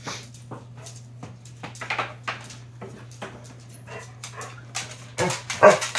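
A dog whimpering and panting indoors, with short high whines and breathy pants in irregular bursts over a low steady hum, growing louder near the end; nobody speaks.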